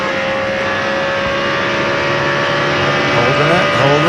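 A NASCAR stock car at the 2002 Pennsylvania 500 at Pocono screams at high revs through a corner, a loud, sustained engine whine that rises in pitch, alone without talk.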